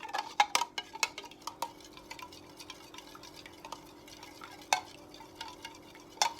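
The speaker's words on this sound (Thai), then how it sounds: "คนจนเหลือเจลแล้วก็แอลกอฮอล์จะผสมกันแบบ เป็นเนื้อเดียวกัน" Hand sanitizer gel is stirred with alcohol in a container, giving faint, irregular clicks and taps of a utensil against the vessel over a quiet steady hum.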